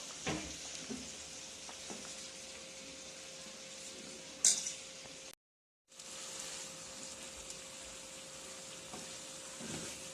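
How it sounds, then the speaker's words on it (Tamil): Paneer pieces lightly frying in a pan, giving a faint, continuous sizzle with occasional soft utensil clinks. A brief louder clatter comes near the middle, followed by a moment of complete silence before the frying resumes. "பன்னீரை லைட்டாக ரெண்டு பக்கமும் ஃப்ரை பண்ணி எடுத்துக்கோங்க"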